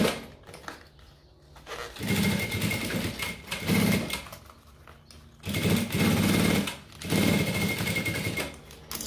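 Sewing machine stitching the bottom seam of a fabric pencil case in bursts of rapid, steady needle chatter separated by short pauses, close and fairly loud.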